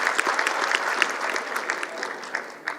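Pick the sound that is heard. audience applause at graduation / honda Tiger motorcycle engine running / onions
audience applause at graduation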